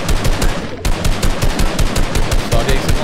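Rapid, loud bursts of Fortnite gunfire, shots firing in a fast steady rhythm close by with barely a pause.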